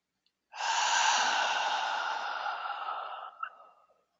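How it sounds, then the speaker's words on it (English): One slow, deliberate breath, heard mostly as a long, steady, airy exhale lasting about three and a half seconds, close and alone in silence. "When you inhale, it's through your nose, and when you exhale, it'll be through your mouth."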